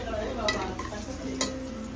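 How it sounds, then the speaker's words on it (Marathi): Ginger-garlic paste and onion fry in a pan with a soft, steady sizzle, broken by a few sharp scrapes and clinks of a utensil stirring, close and moderately quiet. "अद्रक लसूणची पेस्ट कांदा टाकलेला आहे फ्राय करायला"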